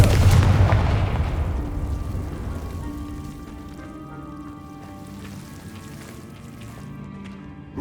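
The Confringo blasting spell in the Hogwarts Legacy video game sets off a single loud, booming explosion that fades into a long, low rumbling tail with scattered crackles.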